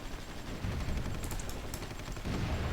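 Bradley fighting vehicles trading gunfire in the strategy game Supreme Ruler Ultimate, a faint, dense crackle of rapid distant shots running continuously, with a few sharper bursts in the middle.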